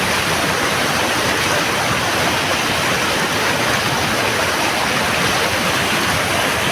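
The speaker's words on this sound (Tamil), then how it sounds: "மழை பெஞ்சுட்டே இருக்கு" Heavy rain pours steadily through a cyclone, a dense, loud, continuous hiss with no breaks.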